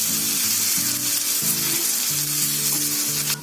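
A vegetable patty frying in oil in a pan, a loud, close, steady sizzle throughout, with a low pulsing hum in the background.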